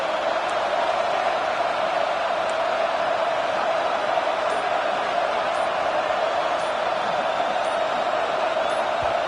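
Stadium crowd in a college football video game, a dense, steady roar of many voices sustained throughout at high volume, with faint scattered thuds on top.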